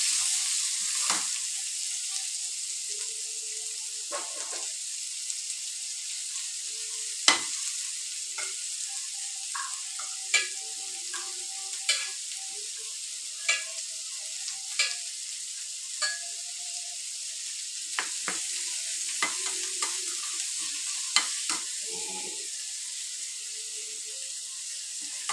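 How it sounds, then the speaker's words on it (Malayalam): Garlic and chopped onion fry in a pan, a continuous bright sizzle with scattered small pops and clicks from the frying and occasional stirring, steady and close throughout. "സവാള അരിഞ്ഞത് ഇട്ട് കൊടുക്കാം. നല്ലപോലെ മൂപ്പിച്ചെടുക്കാം."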